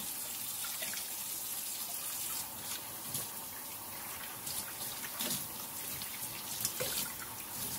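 Pork chitterlings are rinsed under a running tap, a quiet, continuous stream of water splashing into a sink with small irregular splashes as they are handled.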